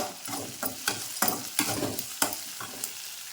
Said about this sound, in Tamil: வெங்காயம் பச்சை மிளகாய் எல்லாம் போட்டு கருவேப்பிலை போட்டு இப்படி போட்டு தாளிச்சிக்கலாம்